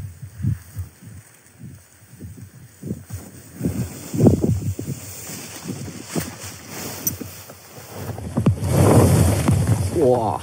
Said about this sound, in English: there's a few gusts coming through every now and then